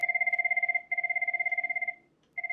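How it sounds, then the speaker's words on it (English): An electronic VoIP desk phone ringtone trills in rapid pulsing bursts, two long rings separated by short gaps, then starts again; no talking. "By pressing to the left, the ringtone gets quieter."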